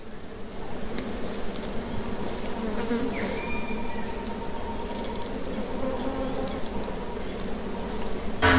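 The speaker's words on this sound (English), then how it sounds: "The air around this carcass is thick with the buzzing of flies and the smell of death." Flies swarm around an animal carcass outdoors, a dense continuous buzzing close by with individual flies droning past, steady and alone for several seconds.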